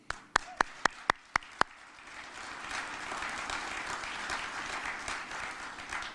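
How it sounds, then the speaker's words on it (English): A few sharp, separate claps ring out near at the start, then a steady, moderately loud round of audience applause builds and sustains at a Li-Cycle announcement event about its Rochester Hub facility. "so that's something worth clapping for."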